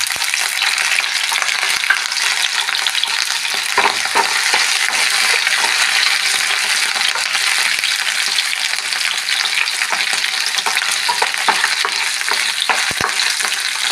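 Crushed garlic frying in a pan for ulli mulaku chutney, a loud, constant crackling sizzle with faint stirring clicks throughout, no speech.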